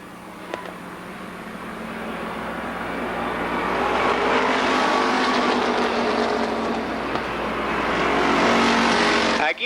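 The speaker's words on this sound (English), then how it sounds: "That car seems to slow down and then take off again." Winged sprint cars racing at Columbus Motor Speedway, a dense roar of engines that builds steadily as the pack approaches and holds loud and close near the end.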